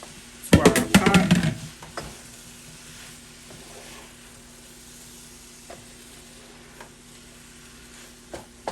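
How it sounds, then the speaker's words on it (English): Steak pieces sizzling loudly for about a second as they go back into a pot of peppers, onion and garlic, then quieting to a faint low simmer with a few small clinks. "take our steak and add it back in"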